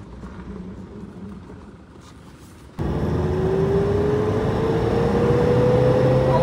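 A converted Toyota Fortuner with a 3.0 litre engine surges in loudly partway through, its close, steady roar rising in pitch as it accelerates on the road after a quieter interior hum.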